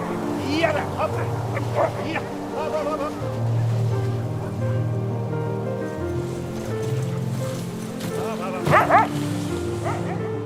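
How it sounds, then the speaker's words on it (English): Greenland sled dogs bark and yip repeatedly at close range, a lively overlapping chorus over steady low background noise. "They are sled dogs,"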